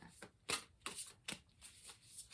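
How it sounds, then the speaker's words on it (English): Tarot cards are shuffled by hand in several quick riffling bursts with brief pauses between them, crisp and close. "Actually, we're going to keep shuffling."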